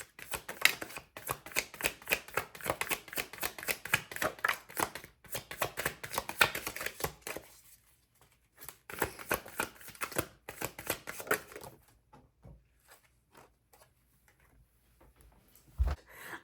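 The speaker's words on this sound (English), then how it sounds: "I didn't even shuffle your tarot cards yet" Tarot cards riffle and slap in quick bursts of shuffling, close and crisp, pausing briefly between runs and trailing off into near silence.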